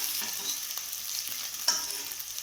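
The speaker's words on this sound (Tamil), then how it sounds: "ஆனியன் வதங்கிட்டு கொஞ்சம் கருவேப்பிலை போட்டுக்கலாம்." Onions and curry leaves frying in a pan for a spicy chana and potato gravy give a steady, soft crackling sizzle with faint stirring scrapes and one brief sharper tick, close by, with no one speaking.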